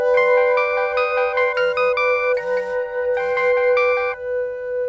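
A phone ringtone plays a bright, repeating electronic melody in short bursts over a steady tone, loud and close, with no voices.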